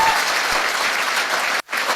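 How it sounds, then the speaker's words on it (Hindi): Loud, dense audience applause fills a motivational seminar hall without a break, the clapping cutting off abruptly near the end before picking up again. "ताली जोरदार बजाइए"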